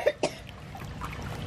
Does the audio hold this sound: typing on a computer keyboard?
no